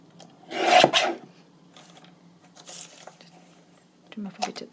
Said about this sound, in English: I'll just trim that off there.